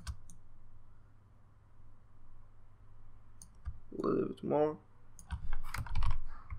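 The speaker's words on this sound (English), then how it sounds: "using your arrow key on your keyboard, you can put it right place" Computer keyboard keys are pressed while editing a gaming logo in design software, scattered sharp clicks and taps, some in quick bursts, with a person talking over part of it.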